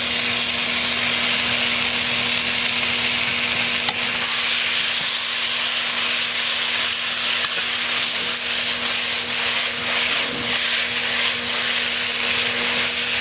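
Shrimp stir-fried with bean sprouts and cilantro in a hot wok, a steady, close hiss of sizzling with scraping and stirring throughout, plus a low constant hum, no talking.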